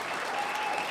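Brief burst of audience clapping at a retirement celebration, steady and even, heard alone without talk.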